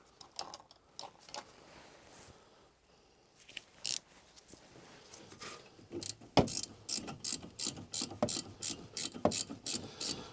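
Ratchet wrench snugging up brake bolts on a 2010 Toyota Corolla, first in scattered clicks and then in a rapid, regular run of sharp ratcheting strokes, close and clear with no talking.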